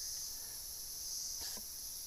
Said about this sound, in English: there was an incredible cicada